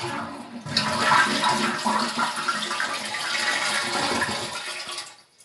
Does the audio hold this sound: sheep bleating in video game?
no